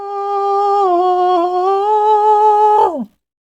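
A man sings one sustained falsetto note, clear and close, holding steady pitch with slight wavering for about three seconds before sliding down and cutting off into silence.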